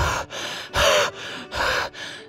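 Out-of-breath panting in a children's story, heard up close as six quick, heavy gasping breaths in a steady rhythm with no talk.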